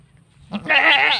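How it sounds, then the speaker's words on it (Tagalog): A goat on a farm field gives a single loud, close, wavering bleat lasting under a second after a short quiet lead-in. "nabubulunan yata yung kambing"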